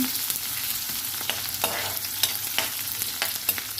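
Ingredients sautéing in a pan for ginataang talong with dried fish, a constant close sizzle with irregular scraping taps of a utensil stirring throughout.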